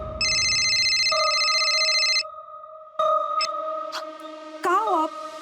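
A phone rings in a crime drama scene, a steady electronic ringtone with sustained warbling tones that fills the first couple of seconds, then gives way to further tonal beeps and a brief warble, fairly loud with no talk over it.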